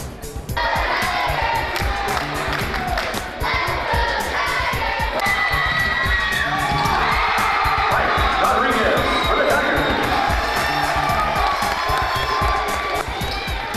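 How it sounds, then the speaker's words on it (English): A large crowd at a college basketball game between Marshalltown Community College and Indian Hills in the Student Activity Center cheers and shouts loudly and continuously. Sneaker squeaks and ball bounces come through the roar, and voices call out throughout. "There was a huge crowd at the game tonight"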